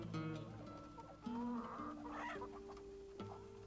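Hens on an integrated chicken and fish farm cluck steadily close by, with soft repeated calls over a low, sustained background drone.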